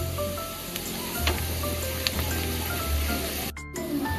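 Whole dried red chillies, cut open, sizzling in hot oil in a pan, a steady close crackling fry with scattered pops, continuous throughout and ending in a brief sharp break.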